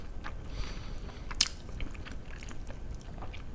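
Grilled eel wrapped in ginger is eaten by hand, with close, soft chewing and biting throughout and one sharper bite near the middle, no talk.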